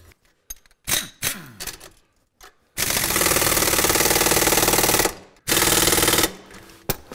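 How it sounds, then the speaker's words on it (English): Power tool tightening the top and bottom bolts on UTV torsion arms for a track system, with short bursts and then a long loud rattling impact run, a pause, and another sustained burst. "then you tighten these top and bottom bolts"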